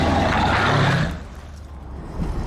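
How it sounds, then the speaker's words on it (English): Mercedes SL63 AMG V8 engine producing a loud, deep burbling roar for about a second, then dropping to a quieter rumble before swelling slightly again at the end. "A mixture of NASCAR V8, Vulcan bomber and American muscle car, all rolled into one glorious burbling roar."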